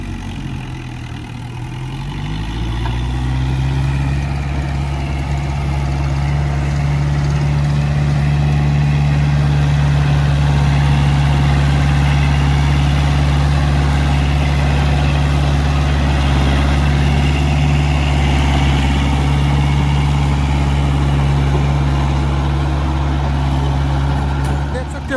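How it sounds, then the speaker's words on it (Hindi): A Kubota MU4501 tractor drives a 10-foot rotavator at low RPM, its engine holding a steady, deep idling drone with a throbbing hum throughout. Someone talks over it. "बिल्कुल स्लो RPM कर दिए और रोटावेटर चल रहा, कोई दिक्कत नहीं है।"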